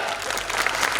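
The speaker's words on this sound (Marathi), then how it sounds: "और तालियां ऐसे बजाओ, ध्यान सबको, जोश आ जाए" An audience at an abacus academy national-level competition award function breaks into a brief burst of dense, steady clapping.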